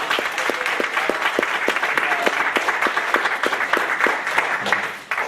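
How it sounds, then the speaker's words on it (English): A crowd at an evening public education panel forum claps for a group of high school students, a loud, dense wash of applause with a few sharp individual claps standing out, sustained throughout with some voices mixed in. "I just wanted everybody to give a round of applause to these students from Johnson High School"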